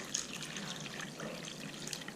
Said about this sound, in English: I'm going to add that water in